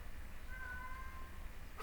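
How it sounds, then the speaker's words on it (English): A single cat meows with a thin, drawn-out cry at low level, followed by a short second call near the end, set against quiet room noise. "I'm about to eat that cat if it doesn't stop meowing"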